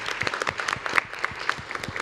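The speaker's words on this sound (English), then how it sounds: "let's give a little applause to Anna" An audience at a talk on human-centric CCAM and driver safety claps, with fairly quiet, steady, dense applause and no voices over it.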